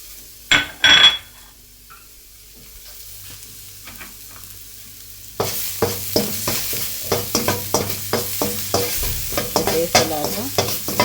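Garlic frying with green beans and carrots in a pan, a steady sizzle broken by repeated scraping stirs of a utensil against the pan, close and busy, with a couple of sharp knocks near the start.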